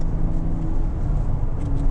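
Porsche 987 Cayman with a GT3 exhaust idling or cruising steadily, a deep, continuous low rumble with a faint tonal drone, close by and without talk.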